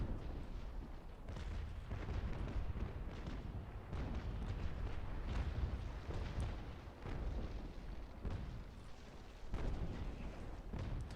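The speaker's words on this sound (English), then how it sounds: "Pirate Sussex actually received that broadside" Ship cannons firing broadsides in a Naval Action sea battle, a fairly faint, continuous barrage of deep booms and rumbling blasts rolling on for several seconds, no talk.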